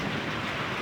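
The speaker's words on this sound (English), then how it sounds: "it's just pouring down rain" Heavy rain pours down without pause during a severe thunderstorm with damaging winds, a dense, loud hiss of drops and a low rumbling undertone. No voices are present.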